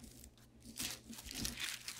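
Tissue paper crinkles softly as a piece of craft material is laid down on it, a quiet run of light rustles and crackles close by.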